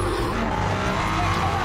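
Race cars circulating at Circuito Estoril, a former Formula 1 track in Portugal, giving a loud, continuous engine roar with high-pitched whine that fills the short span.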